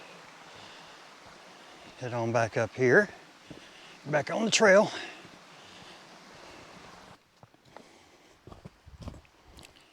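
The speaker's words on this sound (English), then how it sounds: "It's another creek there that's flowing into Raven Creek." A small creek feeding Raven Creek beside a hiking trail near Raven Cliffs Falls, Helen, Georgia, gives a steady, soft rushing throughout, partly masked by someone talking nearby.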